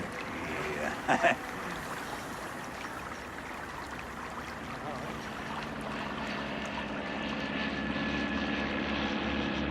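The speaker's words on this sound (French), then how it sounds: "Mais il y a un avion, là." A propeller airplane drones steadily overhead through the whole stretch, a broad continuous engine hum that grows slightly fuller toward the end, with a brief louder knock or rustle early on and no clear talk.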